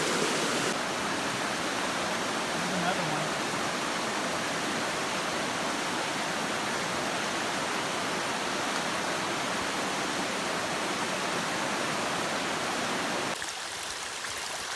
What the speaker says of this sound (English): this is water directly off a melting glacier.